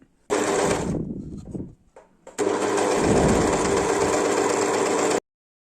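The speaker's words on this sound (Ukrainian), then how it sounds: "Прокладаємо строчку на оверлоці." Overlock sewing machine running a seam through fabric while finishing a garment with doubled pieces, a steady close, buzzing whir in two bursts, a short one then a longer continuous run, with a brief pause between.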